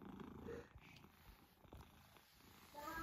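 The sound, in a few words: cat purring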